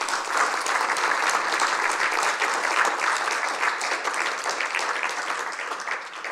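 Applause from a seated audience at a water security talk fills the room, a dense, steady patter of many hands clapping loudly and continuously with no voices over it.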